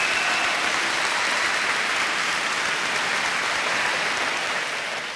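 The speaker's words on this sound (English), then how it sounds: "Go ahead. Applaud yourself." Applause from a gala banquet audience: a dense, steady wash of many clapping hands lasting about five seconds, loud and close, easing off slightly at the end, with no talking over it.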